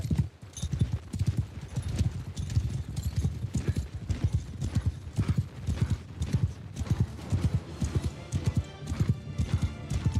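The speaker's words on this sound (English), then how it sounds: "I've got a sort of pseudo decent horse." Rhythmic horse hoofbeats in a Warhammer video game mod clip-clop steadily at a brisk trot, close and clear, with an occasional whinny in the background.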